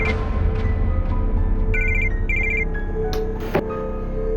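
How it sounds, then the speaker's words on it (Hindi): A phone ringtone sounds in a home during a crime drama scene. Its electronic melody comes in short repeated bursts over a steady, fairly loud background. "किसका फोन है?"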